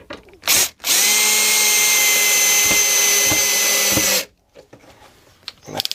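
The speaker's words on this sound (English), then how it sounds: "torque down your drill so you're not using too much force" A power drill drives a screw into wood while a bed lift kit is fitted, one loud steady whir of about three seconds after a brief opening burst, then trailing quiet handling noises.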